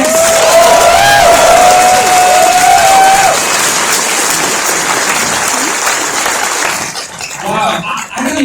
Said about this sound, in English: Can we have a round of applause for these maniacs?